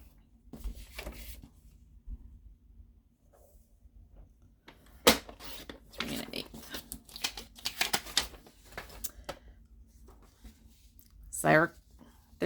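Scrap paper being cut with scissors, a series of close crisp snips and rustles, mostly quiet and irregular, with a louder sharp cut near the end.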